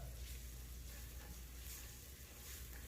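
Ginger, garlic and green chilli paste frying with onions for kuska rice, a faint, steady sizzle that continues evenly without pause.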